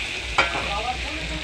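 Marinated chicken meat goes into a pan of ginger and spices, giving a sharp burst of sizzle that settles into continuous close frying with stirring, and no one talks.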